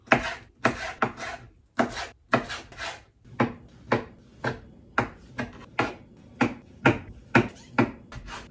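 Knife chopping squid on a cutting board, a steady series of sharp, close knocks in an uneven rhythm, about two per second, with no talking.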